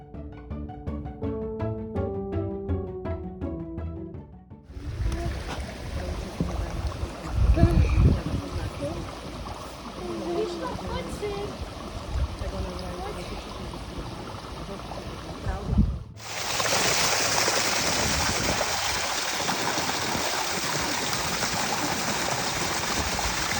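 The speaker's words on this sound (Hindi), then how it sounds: "जो रिवर का पानी है वो यहाँ से ऐसे रोड से जा रहा है" River water runs along a road and down a street in Sliač, Slovakia, making a steady broadband rush that grows louder and denser partway through. The flow stays continuous, with some handling and movement noises over it.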